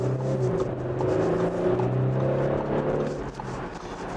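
An Audi SQ5 TFSI SUV accelerates onto a highway on a freezing winter day, its engine a steady, close, droning growl with whirring tonal layers heard from inside the cabin, holding constant for several seconds with no talk.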